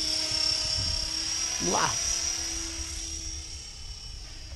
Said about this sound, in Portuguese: Helicóptero, ele baixinho assim, ele tá voando, certo?